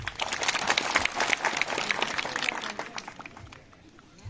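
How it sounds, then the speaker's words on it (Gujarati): Large crowd clapping loudly and steadily at a Christmas gathering in a tribal village, dense applause with cheering voices mixed in, tapering slightly toward the end. "આપ સૌ માટે એક જબરજસ્ત તાળીઓ થઈ જાય"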